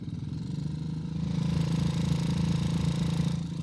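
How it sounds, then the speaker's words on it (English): Several 350cc dirt track motorcycles at a men's novice final rumble steadily at the start, a loud, continuous low engine drone that swells slightly partway through and holds. "The bikes are about to head off on their test ride."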